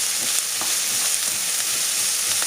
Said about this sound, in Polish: Smażymy jeszcze 2 minutki.